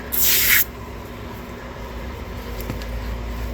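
A short, loud hiss of a glass cleaner spray bottle onto a rag, one quick burst at the start, then quiet room tone.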